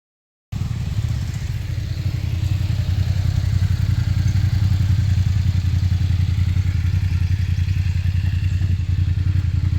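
Motorcycle riding along a coastal road in Kerala, its engine holding a steady, loud mid-pitched drone with wind rush and light road clatter throughout, no talking.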